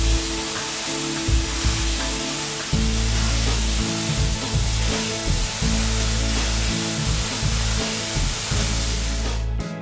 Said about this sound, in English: using a commercial pressure washer will greatly speed it up to 4 times